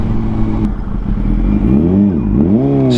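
A motorcycle engine running rough at low RPM: loud, close, uneven putter that climbs and dips through a couple of blips of throttle, with some clatter.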